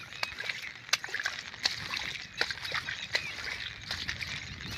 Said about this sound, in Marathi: पहा आहे का कसं चाललं आहे पाणी वाहून, फुल भरून चाललं आहे खाली.